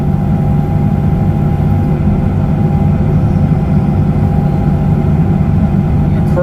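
A John Deere 50G mini excavator engine runs loud and close as a steady, unbroken low rumble with no pauses or changes in pitch.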